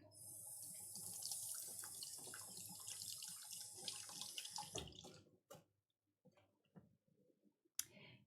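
Large mushroom caps are rinsed under a running kitchen tap, a steady close splash of water for several seconds, then the flow stops and a few scattered clicks and knocks of handling follow.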